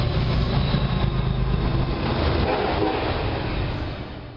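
A BNSF freight train led by an SD70M-2 locomotive rolls past close by, a loud steady rumble of engine and wagons that holds for the whole stretch and eases slightly toward the end.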